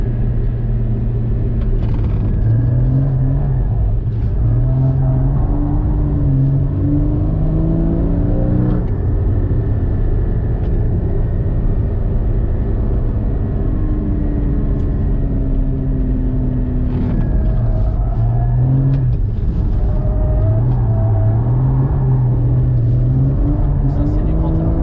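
GT4 sports car with a six-speed manual gearbox and snow tyres on the rear, its engine loud and close as it revs and accelerates through gear changes on a track, with people talking over it.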